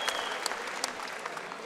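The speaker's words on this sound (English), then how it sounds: "A round of applause then, and justifiably so, as he gets to his feet, Iliass Hammouche." A fight-night crowd at a kickboxing event applauds in a steady, fairly distant patter of clapping, with sharper claps standing out now and then and no talk over it.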